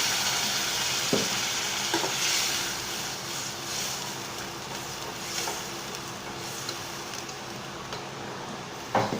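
Fish frying with khorisa, fermented bamboo shoot, in hot oil in a home kitchen, a steady close sizzle running throughout with occasional brief clinks of a stirring spoon, no talking.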